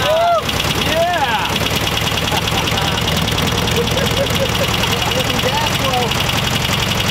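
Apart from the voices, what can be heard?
old VW Beetle engine running after first start in years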